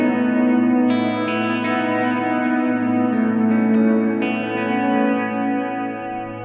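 Electric guitar arpeggio played through a Walrus Audio reverb pedal, shimmering and synth-like with a lush, sustained wash of reverb under the picked notes, steady and fairly loud with no talking.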